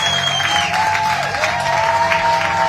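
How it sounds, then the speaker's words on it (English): Broad, steady applause from a full rugby stadium crowd at an inter-district championship, sustained at an even level, with a thin whistle-like tone rising and falling over it. "Cali team taking the applause."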